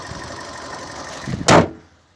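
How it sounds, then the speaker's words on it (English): A car bonnet slammed shut once with a sharp, loud metallic thud, heard close over the low hum of an idling engine, followed by quiet. "Just gonna put the bonnet down."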